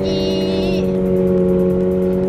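A car revs hard during a drift lesson, a loud close engine drone with a high whine that drops away after the first second, leaving a sustained steady roar.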